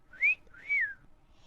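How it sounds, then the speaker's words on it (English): A person whistles two quick rising-and-falling notes, the second longer and sliding downward, clear and close against a quiet background. "Holmes whistled."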